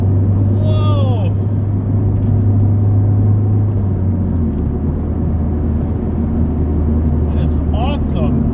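A Mazda 3 MPS Mazdaspeed on Bilstein coilovers with a Whiteline rear sway bar taking a tight corner, a steady engine rumble heard from inside the car, with excited voices talking over it at the start and end.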